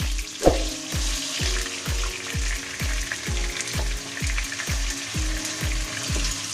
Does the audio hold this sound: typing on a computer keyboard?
no